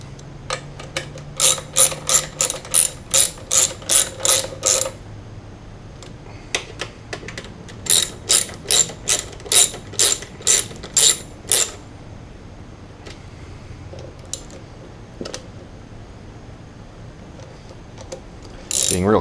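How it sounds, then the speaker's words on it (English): A hand ratchet tightens bolts on a Suzuki Boulevard C50 motorcycle, giving two long runs of rapid, evenly spaced clicks up close, with a few scattered clicks and light handling noises between and after them. "Go ahead and tighten all these bolts back up."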